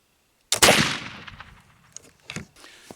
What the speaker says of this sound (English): But I'm going to get loaded up and get the last 2 shots downrange.